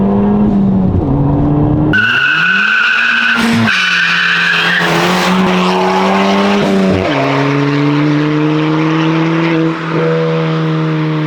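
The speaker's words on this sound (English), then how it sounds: "Now, at the moment, the car sounds like this." A Ford Fiesta ST engine, before straight piping, revving loud and close through its exhaust: a droning, tonal note jumps in pitch over several sharp blips, then settles into a steady, high idle.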